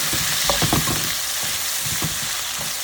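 Potatoes fry in a pan with a constant bright hissing sizzle, broken by a few louder bursts of crackle as they shift, close and steady without voices.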